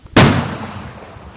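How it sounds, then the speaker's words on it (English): A single sharp gunshot crack in a narrated story, loud and close, with a short echoing tail that fades over about a second; no voice over it. "As he looked, he heard gunfire."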